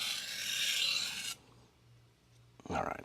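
Knife blade stropped after sharpening on a Sun Tiger GC220 grit stone, giving a loud, steady rasping rub for over a second. Quiet follows, then a brief second stroke comes in close at the end.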